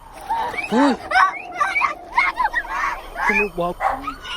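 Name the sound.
dogs barking at night in a graveyard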